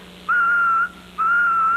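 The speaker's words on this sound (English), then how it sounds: "This kettle whistles like this." A tea kettle gives two long, steady, piercing whistle blasts with a short gap between them, loud and close.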